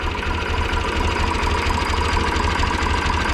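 A 1988 Hindustan G453 vintage tractor engine idles with a steady, low, knocking chug, close and continuous without any voices.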